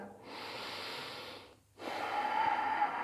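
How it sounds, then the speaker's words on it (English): Deep breathing during a gentle yoga exercise, a long close airy inhale, a short pause, then another strong breath, heard alone without talk. "Let's do one more big breath"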